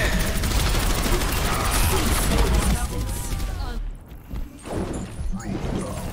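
Dense, continuous barrage of shotgun fire and game action in Overwatch, loud and busy for several seconds before thinning into scattered bursts, with some voice underneath.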